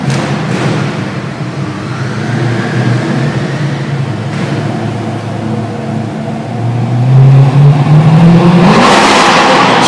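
A Mercedes C63 AMG's engine roars loudly in an underground parking lot and climbs to a harsh, rising rev as the wheels spin in first gear, echoing close by with no talking.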